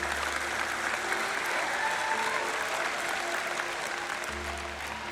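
A church congregation applauds during a service: sustained, thick clapping from many people, steady in loudness over a low hum, tapering slightly near the end.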